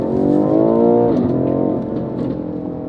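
A 2019 BMW M5 Competition with its stock competition package exhaust and aftermarket downpipes revs loudly and close, holding a rich droning engine tone that dips slightly partway through and then settles into a steady rumble.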